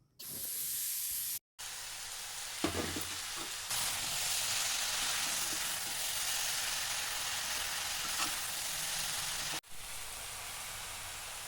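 Banana flower and ponnanganni greens sauté in a pan, a steady broad sizzle and hiss running nearly throughout, close and loud, with a couple of brief cut-outs and occasional scraping stirs.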